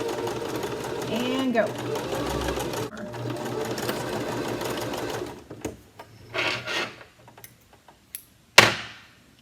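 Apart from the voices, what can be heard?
sewing machine stitching an upcycled t-shirt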